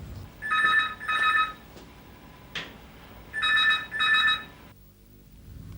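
A telephone rings in two pairs of bright trilling bursts separated by a pause, with a faint knock between them.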